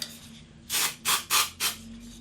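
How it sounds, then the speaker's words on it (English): Four short hissing bursts of spray in quick succession, close by and fairly quiet. "I might just use a little bit of my hairspray"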